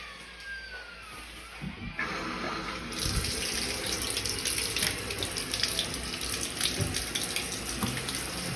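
Cold water runs steadily from a tap into a plastic brewing bucket being rinsed at a sink, a continuous close splashing stream that grows fuller and louder after the first few seconds.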